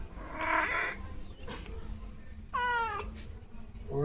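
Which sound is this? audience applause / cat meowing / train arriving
cat meowing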